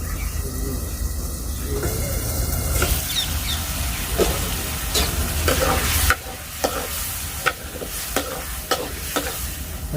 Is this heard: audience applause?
no